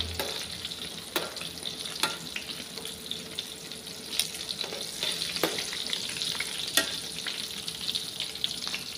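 Eggplant frying in a pan, a steady close sizzle and crackle with occasional stirring clicks and scrapes throughout, no talking.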